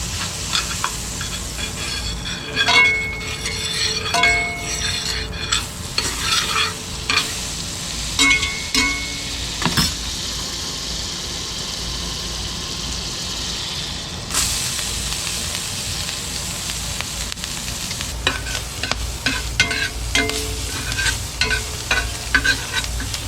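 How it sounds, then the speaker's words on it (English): Chopped onion and jalapeno sizzling in butter in a pan, a steady loud frying hiss with intermittent stirring scrapes and clinks throughout. "I got some chopped onion and chopped jalapeno. Throw some butter in the pan."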